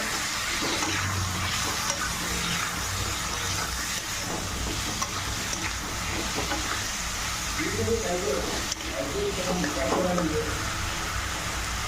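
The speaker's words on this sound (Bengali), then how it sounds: "এবার মশলাটা ভালো করে কষে নেব" Spice masala with turmeric and Kashmiri red chilli powder stir-fried in a pan for a chicken skin dish, a continuous loud sizzle with scraping stirring throughout and faint voice-like sounds underneath.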